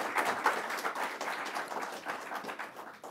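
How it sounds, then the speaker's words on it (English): An audience applauds clinicians at a New York state program announcement, a fairly quiet, continuous patter of clapping from many hands lasting a few seconds. "I also want to make sure we give you a round of applause as well"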